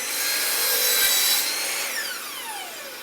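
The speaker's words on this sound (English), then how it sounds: "Now I've got the pieces that we just cut at the miter saw back at the table" Wood rasping and sawing on crown molding cut at a miter saw, a steady close rubbing scrape that carries for about a second and a half, then fades out under a faint hiss.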